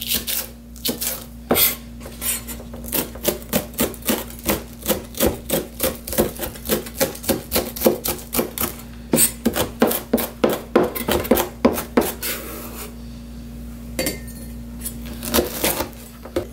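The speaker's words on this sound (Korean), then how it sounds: "이거를 전부 다져줄게요." A knife minces green onion with red and green chili peppers on a cutting board, producing a long run of rapid, sharp, close chopping taps in quick bursts with short pauses between them.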